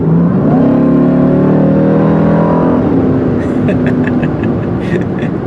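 A Jeep Grand Cherokee Trackhawk SUV with all-wheel drive accelerates hard, its engine climbing in pitch through a loud, rising rev before a gear change. The engine is close and dominant, with faint clicking near the end.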